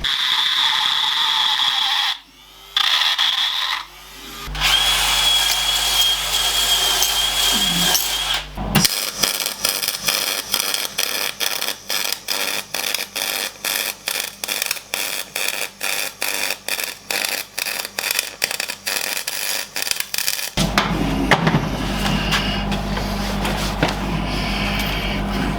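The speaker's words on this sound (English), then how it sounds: "I want to die grind into that corner there so that I can fill it with weld." A die grinder cuts into the corner of a steel hub reduction pinion housing on a Foden S80 lorry being restored, a loud, close, continuous rasp broken by short pauses and a rhythmic stuttering stretch.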